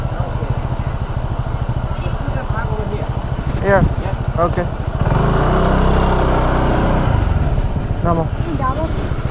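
A motorbike rides with a steady engine hum before the engine note swells and then shifts as it slows to a park on a Phuket outing, with voices talking over it.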